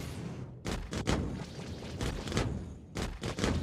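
Ship weapons firing in a space combat video game, aimed at light fighters: bursts of rapid gunfire in clusters, a short volley, a pause, then a longer run of shots, with no talk.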